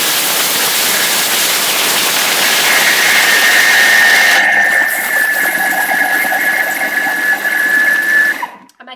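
Thermomix blending dates at speed 9 for bliss balls, a loud high whirring motor roar with a steady whine that drops off abruptly as the blades stop near the end.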